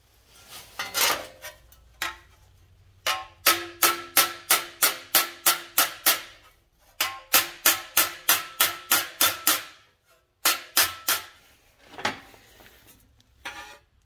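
Rapid series of sharp metallic taps from a hammer lightly flattening welded sheet metal in rust repair, coming in rhythmic bursts with short pauses between them, close and fairly loud.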